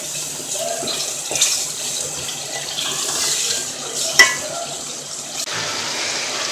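Water pouring from a tap or jug into a pan of frying chickpea masala for Lahori chana, a steady running splash that continues throughout with a brief sharper clink near the middle.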